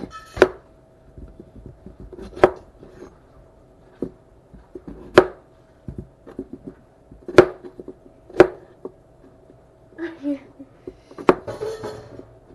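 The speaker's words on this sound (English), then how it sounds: "Now we're just going to chop them up into little cubes." Knife chopping red potatoes into cubes on a cutting board in a home kitchen, with sharp irregular thuds spaced a second or two apart and a few faint clinks near the end.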